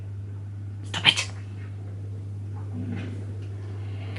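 Cats at home make a short sharp vocal burst, then faint rustling and scuffling, over a steady low electrical hum.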